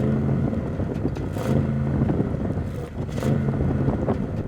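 An Audi RS6 with sports exhaust revs while stationary, a low rumbling engine note swelling and easing close by, partly blurred by wind buffeting the microphone.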